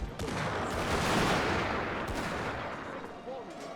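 Massed rifle volleys in a Total War battle set in the Anglo-Zulu War, a rolling crackle of many distant shots blending into a dull rumble, fairly faint, fading toward the end.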